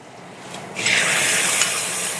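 Pork stir-fries with chili, garlic and sauce in a hot pan. A steady, bright sizzle swells after a soft start and holds loud and close, with faint scraping of the stirring.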